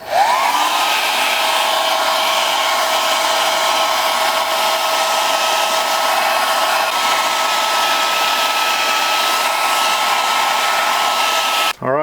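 A heat gun blows a steady, loud, continuous roar while warming moss-colored Talon grip tape on an XDS 45 pistol to reactivate its adhesive, holding even for about twelve seconds before cutting off at the very end.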